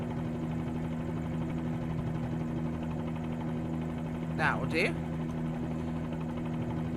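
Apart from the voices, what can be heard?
Bell 47G helicopter in Microsoft Flight Simulator 2020 video game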